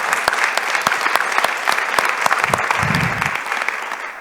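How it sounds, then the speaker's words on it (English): A crowd gives loud, close applause for supporters at a foundation event, with sharp individual claps over a dense wash and a brief murmur of voices partway through. "So give them a round of applause for doing whatever"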